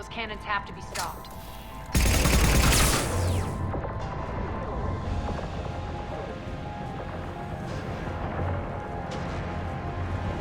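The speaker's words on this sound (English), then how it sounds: "Those cannons have to be stopped." Heavy cannon fire in the Mass Effect 3 game, a huge sudden blast with a long rumbling roll-off, followed by sustained battle din and distant thuds.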